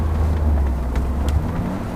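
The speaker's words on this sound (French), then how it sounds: "Alors, je vais vous faire une petite accélération après là." A Smart Roadster Brabus Coupé, Xclusive edition, pulls away under acceleration, its small engine giving a steady low drone with a few brief rising notes, fairly loud and close, with no talk over it.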